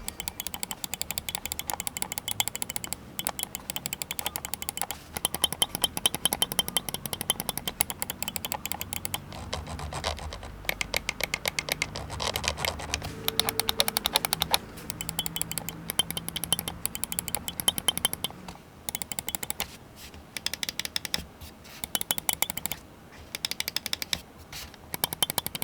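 Rapid, crisp clicking from KYSONA Jupiter Ultra mouse switches alternating with a Viper mouse for comparison, dense close-up clicks in quick bursts with brief pauses, no talking.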